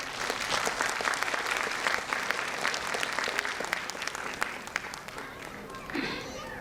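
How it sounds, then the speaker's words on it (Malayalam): Association members at an Onam celebration give a long round of applause, a steady, fairly quiet patter of many clapping hands with a few murmured voices beneath it. "നിങ്ങൾ അംഗങ്ങൾ തൃപ്തരാണെങ്കിൽ ഒന്ന് കൈയടിച്ചോ"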